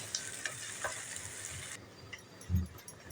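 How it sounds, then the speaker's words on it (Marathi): Bitter gourd with onion and tomato being stir-fried in a pan gives a soft, steady sizzle with scraping stir strokes, then a dull thump near the end, all fairly quiet. "हे बघा मध्ये मध्ये आपल्याला सारखं असं परतवून घ्यायचं आहे"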